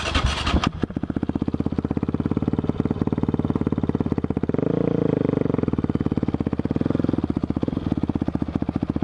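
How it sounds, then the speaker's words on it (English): Motorcycle being started, a fast steady rhythmic churn that climbs into a rougher engine note midway before settling back, loud and close, with no voices. "I'm trying to get my bike started"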